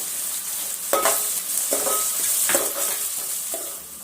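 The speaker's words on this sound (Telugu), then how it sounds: "ఇప్పుడు దీంట్లో అల్లం ముక్కలు, పచ్చిమిర్చి ముక్కలు, ఉల్లిపాయ, కొంచెం ఉప్పు, తాలింపు గింజలు వేసి వేపుకున్నాం కదా" Ginger pieces, green chili, onion, salt and seasoning seeds fry in oil for cabbage fry, a constant close sizzle broken by four spaced scraping stirs of a spatula against the pan, no talking.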